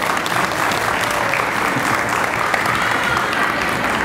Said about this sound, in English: Round of applause for Rich Frola.